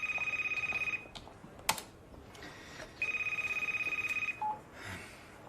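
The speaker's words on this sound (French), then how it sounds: "Le téléphone sonne." A telephone rings in repeated electronic bursts, two long trilling rings separated by a short pause, fairly close and with no one talking over it.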